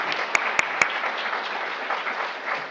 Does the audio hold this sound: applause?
yes